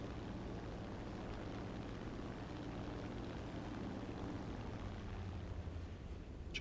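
A steady, droning Ki-83 propeller aircraft engine hum in War Thunder, with a low, even drone and broadband rush, holding constant throughout with no voices.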